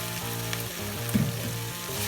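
Shrimp with ginger sizzling in a pan, a steady close frying hiss with a brief stirring clatter midway, no talking.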